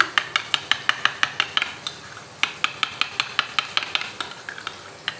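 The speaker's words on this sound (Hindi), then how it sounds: "मसाला हमारा बहुत अच्छा सा भून रहा है" Masala frying for a kaleji (liver) dish is stirred briskly in a pan. A spoon knocks against the metal in a fast, steady rhythm over a soft sizzle, close up, with a short pause partway through and no talking.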